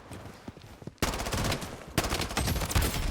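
Rapid bursts of gunfire from the mobile shooter game Blood Strike. A quieter stretch leads into sustained loud automatic fire with repeated sharp shots close in front.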